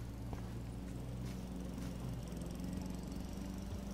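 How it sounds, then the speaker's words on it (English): A lawn mower engine runs steadily in the video game Life is Strange, a continuous low droning hum with a faint rattle that stays at an even, moderate level throughout, with no speech. "Lawn mowing."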